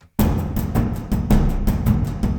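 UJAM Symphonic Elements orchestral drums crossfading between percussion sections start abruptly into a loud, dense, steady pounding pattern of booming low hits and bright accents that continue without pause.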